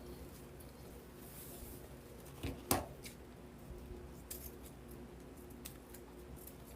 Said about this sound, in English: don't think these are my good scissors